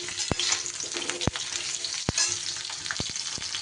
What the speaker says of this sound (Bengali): আমি এখানে আলু আর পটল একসাথেই ভাজা করে নেব।